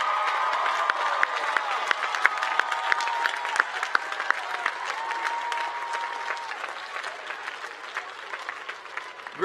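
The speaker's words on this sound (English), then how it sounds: "Let's give them a big round of applause." A large commencement crowd applauds graduates' families and supporters, dense sustained clapping with scattered cheers, loud and steady before easing slightly toward the end.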